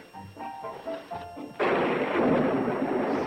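Thunder from an approaching storm rolls in as a sudden loud, sustained rumble after a brief quieter stretch with indistinct talk.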